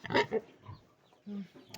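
A few short, quiet pig grunts and snorts, spaced irregularly over a couple of seconds.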